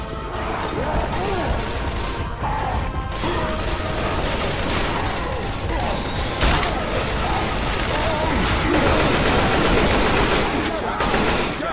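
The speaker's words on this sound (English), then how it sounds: "Everyone shoot the tank. Shoot it." Sustained automatic gunfire rakes the Tank in Left 4 Dead 2, dense, loud bursts layered with crashing impacts and game noise across the whole stretch, with shouted voices mixed in.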